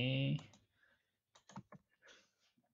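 A few quick keystroke clicks on a computer keyboard as a new password is typed, preceded by a brief louder tonal burst.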